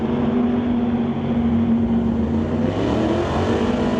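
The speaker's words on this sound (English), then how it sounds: "So Peterson having to do the chasing as they get to the top end" A drag racing Ford Mustang at full throttle down the strip, a loud, steady engine roar that holds a sustained tone and climbs slightly toward the end, with no voices.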